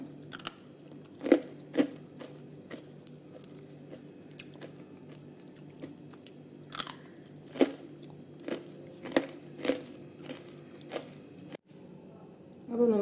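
Crispy homemade murukku made without rice flour is bitten and chewed up close, giving repeated sharp crunches and crackles spread irregularly over several seconds in a quiet room, with no talking.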